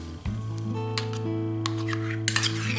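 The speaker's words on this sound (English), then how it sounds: "Next, let's stir in our sour cream." Sour cream being stirred into marble cake batter in a bowl: a metal utensil clinks and scrapes against the dish with a ringing tone, close and moderately loud, with a few sharper knocks near the end.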